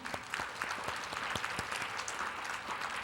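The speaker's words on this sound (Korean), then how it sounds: "우리 큰 박수로 한번 축복할까요?" A church congregation claps steadily, dense overlapping applause with a few sharper individual claps standing out.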